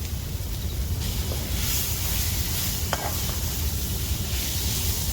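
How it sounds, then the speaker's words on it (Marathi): Wild chai-flower greens stirred in a pan, a steady scraping and sizzling texture close by, continuous and fairly even throughout with no voices. "तर आता भाजीला मी मिक्स करून घेते"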